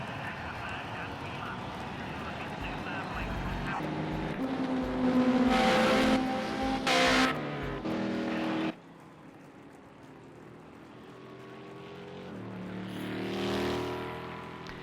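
Race car engines in Project Cars 2 at Fuji, with a Datsun among Group A cars, roar loudly and rise and fall through shifts, then drop to a quieter steady drone that swells again near the end, with speech over much of it.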